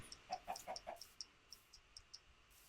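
A chicken clucks in the Minecraft video game, a series of soft, short, evenly paced clucks heard faintly at a distance with no talk over it.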